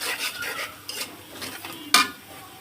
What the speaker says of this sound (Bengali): আমি কচুটা দিয়ে দিলাম।